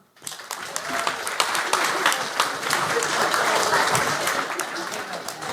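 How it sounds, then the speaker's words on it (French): A comedy club audience answers a stand-up comic with a burst of applause, individual claps audible within a full, steady crowd sound that rises quickly and holds, with voices mingled in. "est-ce qu'il y a beaucoup de gens dans la salle qui sont en couple par applaudissement?"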